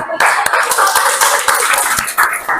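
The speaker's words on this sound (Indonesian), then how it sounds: "Tepuk tangan dulu" A small group of participants in a classroom workshop claps hands together, loud and close, in a quick burst of rhythmic clapping with a distinct beat every half second.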